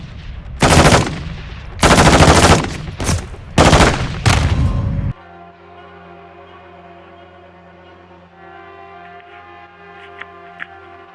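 Call of Duty: Modern Warfare prison break mission gunfire: three loud, dense bursts of automatic fire in the first five seconds, then a low sustained tonal hum with faint scattered clicks.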